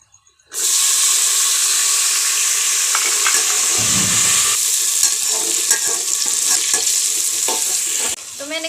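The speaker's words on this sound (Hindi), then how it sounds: "चिकन भी डाल रहे हैं" Chicken dropped into a hot pot of oil, setting off a loud, steady sizzle and hiss that keeps going as the pieces are stirred and fried, with occasional clinks and scrapes and no talking.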